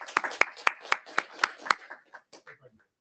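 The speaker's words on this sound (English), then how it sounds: "So let's congrats Daniele, or maybe we can clap." A meeting room audience at an IETF networking standards session claps together for a colleague's birthday: a steady run of sharp, fairly loud hand claps at an even rhythm, thinning out into a few scattered claps at the end.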